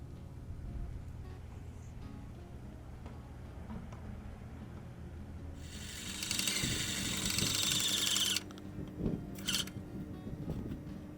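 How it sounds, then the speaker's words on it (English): An airless paint sprayer's pump primes outdoors at a house being painted along its fascia, a steady hissing spray bursting in for a couple of seconds over low mechanical hum, then a brief second burst. "He's priming the pump."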